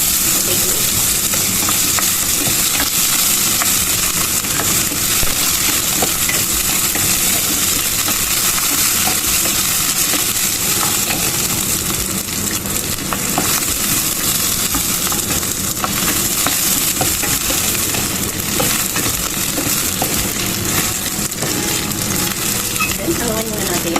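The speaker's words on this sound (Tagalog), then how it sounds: "Stir fry muna natin ang ating potato." Potatoes stir-fry in hot oil in a pan, a loud dense sizzle with scraping stirring throughout, continuous for the whole stretch with no clear talking.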